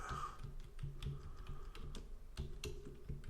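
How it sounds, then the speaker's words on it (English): Fingers type on a computer keyboard in a quiet room, an uneven run of light clicking keystrokes with occasional louder taps, close and steady throughout with no voices. "So I'm just typing that."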